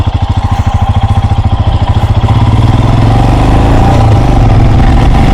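A Royal Enfield Himalayan motorcycle engine running close by, a loud rhythmic single-cylinder thump that quickens and smooths into a steady drone as it revs up.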